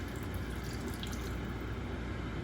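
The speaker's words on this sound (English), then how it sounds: "now I'm gonna add that water, not too much" Water is poured into a pot of simmering goat masala sauce, making a steady, close, even wash of liquid noise with no talking.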